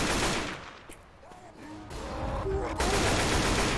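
Rapid bursts of gunfire in Left 4 Dead 2 during a tank fight on a bridge, loud overlapping shots with game effects tones and brief voices underneath.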